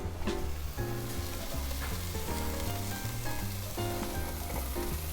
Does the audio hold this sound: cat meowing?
no